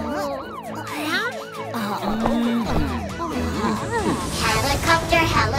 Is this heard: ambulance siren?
yes